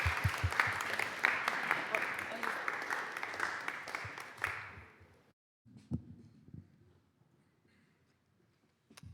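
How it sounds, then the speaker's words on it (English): An audience at a talk on Christianity welcomes a singer to the stage with brisk, dense applause for about four and a half seconds before it dies away, followed by a few faint shuffles and thumps in a quiet room. "big round of applause as she comes up"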